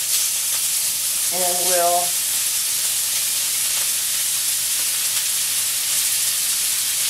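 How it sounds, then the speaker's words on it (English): About a pound and a half of ground beef hamburger sizzles steadily as it browns in a pan for spaghetti sauce, with a loud, continuous frying hiss and a brief spoken phrase early on. "more like a pound and a half of hamburger. So just start to let it brown"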